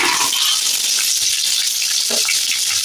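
Chopped onions fry with mustard seeds and curry leaves for a thavalai adai batter, giving a steady, bright hiss that holds evenly throughout with a few soft low bumps underneath and no talking.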